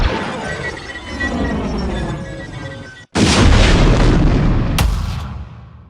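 Rockets from Hellfire droids blasting a Star Wars battlefield: a sustained rumbling barrage of explosions and debris, then a sharp cut into a louder, denser roar of blasts with a bright crack near the end.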